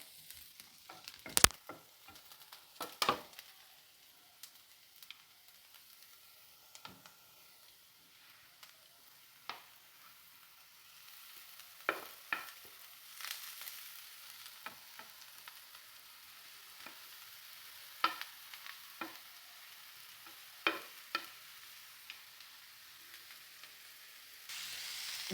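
Grated carrot and beetroot fry in a pan with onion, a faint steady sizzle broken by sharp scraping stirs at irregular intervals.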